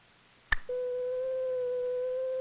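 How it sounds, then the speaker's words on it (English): Single pure tone feeding an oscilloscope starts after a brief click and holds steady and clear, a clean continuous sine-wave hum with faint higher overtones, alone and unchanging. "This pure tone gives us the classic sine wave."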